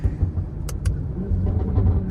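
A tuned BMW M340i xDrive rumbles low and close on a rainy day, with a couple of sharp pops and crackles from the exhaust over the steady engine drone.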